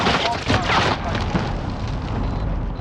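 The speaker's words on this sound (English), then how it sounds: "Grenade out." A grenade goes off in a video-game battle, a loud, close blast with a broad roar that rolls into a decaying rumble, with voices mixed in around it.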